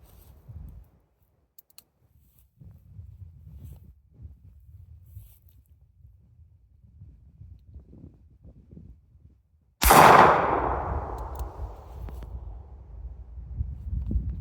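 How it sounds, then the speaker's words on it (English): A single loud .45 Colt revolver round fires near the end, a sharp blast followed by a booming decay after quiet outdoor rustling. "First round is going to be the 45 Colt."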